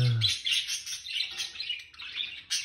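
Small birds chirp and tweet in a quick, busy chorus of high calls, fairly close and continuous, with no one talking.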